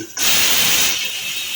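A pressure cooker, used to cook sweet potatoes in a home kitchen, releases steam in a loud, steady, close hiss that starts abruptly and continues without a break.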